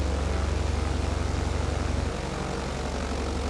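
In a flight simulator game, a propeller aircraft drones steadily and loudly near an island airport in Puerto Rico, a constant rumbling engine tone throughout with no talk.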